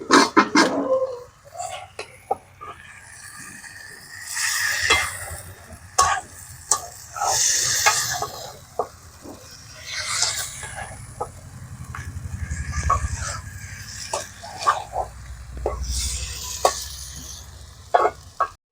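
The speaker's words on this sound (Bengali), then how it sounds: "আজ থেকে এখন পেরে আনা লঙ্কাটা এখন দিয়ে দিচ্ছে এখানে। এটা ভালো হবে, এবারে কষে নিতে হবে।" Mutton curry with freshly added chili is stir-fried in a pan, a steady sizzle broken by repeated scraping and clacking strokes of the spatula that come in bursts throughout, with no talking.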